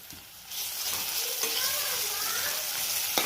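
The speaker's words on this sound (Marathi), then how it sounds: "एक थोडा वेळ परतून घ्यायचा आहे आपल्याला तेलामध्ये" Coarse paste of green chili, garlic and ginger hits hot oil for brinjal bharit, bursting into a loud, dense sizzle that carries on steadily close by, with light stirring and a brief clack near the end.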